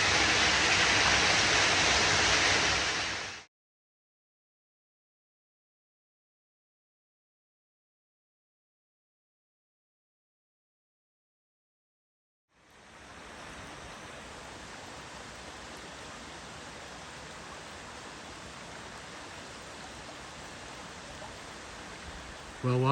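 A waterfall at Switzer Falls, California, pouring into a small pond, makes a broad rushing hiss. The sound stops for several seconds, then returns softer and steady to the end.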